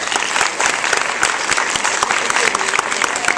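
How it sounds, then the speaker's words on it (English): An audience at an evening student event gives sustained, dense applause for faculty, many hands clapping steadily at close range with no letup. "I'd like them to stand up and give your faculty a round of applause."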